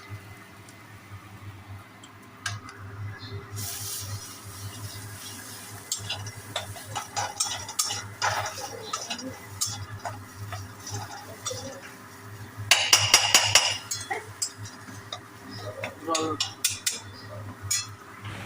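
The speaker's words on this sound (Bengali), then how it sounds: "আমি মশলাটাকে খুব ভালোভাবে কষিয়ে নেব" A chili, turmeric and salt spice paste is stir-fried in a pan for a fish curry, with soft sizzling under intermittent scraping and clinking of a utensil against the pan, and a brief busier burst of stirring partway through.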